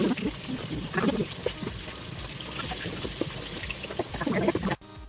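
Fish slid one by one into hot frying oil set off a steady, close hiss and sizzle. It runs without a break, then drops sharply near the end.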